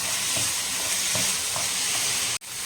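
Jaggery melting in a pan for coconut laddu is stirred with a steady scraping rhythm, a soft sizzle running underneath throughout, with a brief drop to near-silence at the very end.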